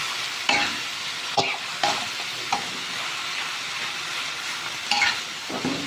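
Holy basil and mushrooms are stir-fried in a pan under a loud, steady sizzle, punctuated by several sharp spatula scrapes and knocks against the metal at irregular intervals.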